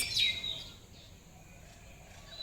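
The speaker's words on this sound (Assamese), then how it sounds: "পক্ষীবোৰ বহুত হুলস্থুল কৰে আৰু মই সাৰি পাৰি যাওঁ ৰাতিপুৱা চৰাই চিৰিকটিৰ শব্দত।" A few faint, high bird chirps near the start, then quieter scattered tweets against a soft background hum.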